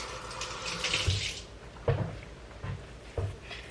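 A kitchen tap runs briefly to wet hands while bread is being made, followed by a few soft knocks and handling bumps nearby.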